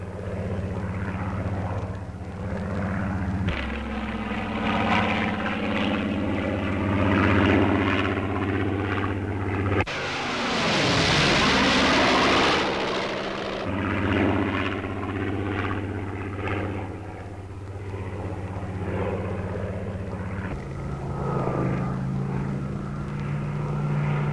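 A Supermarine Spitfire 14 propeller fighter flying past, a droning piston engine with shifting harmonic tones that surges into a loud, close rushing roar midway before settling back to a steady drone.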